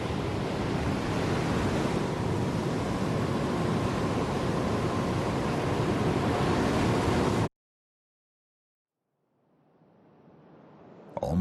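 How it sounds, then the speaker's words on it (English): Loud, steady ocean surf and waves crash near Sofugan island, a broad continuous roar for over seven seconds, then a cut to near silence before the wash of waves slowly swells back in. "Almost miraculously, the waves subside."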